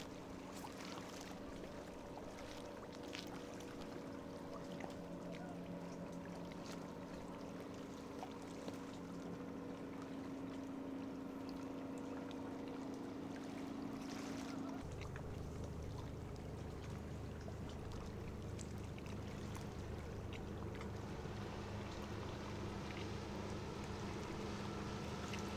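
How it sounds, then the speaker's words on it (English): Boat engines hum and drone across open water, a low steady rumble that shifts pitch midway, with faint wind and lapping in the background. "A lot of boats out for a weekday."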